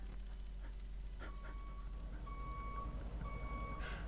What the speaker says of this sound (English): The truck is getting ready to get backed up.